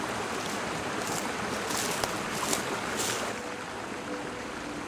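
Kastoras river rushing through its gorge, a broad steady wash of flowing water with a few faint splashes and clicks on top, constant throughout and with no voices.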